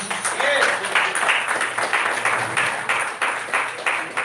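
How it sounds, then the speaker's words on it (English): An opening ceremony crowd gives a round of applause for a team member, with a steady patter of many hands clapping that keeps going throughout at moderate loudness. "A big round of applause for Aman"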